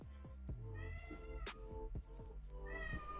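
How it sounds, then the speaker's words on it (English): A pet cat meows repeatedly indoors, a series of drawn-out, plaintive cries close by and fairly quiet, with no one speaking. "Can you hear my cat?"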